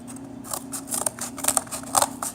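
Scissors cutting paper for a landscape relief sculpture, a run of close, crisp snips and slicing strokes in quick irregular rhythm with no talking.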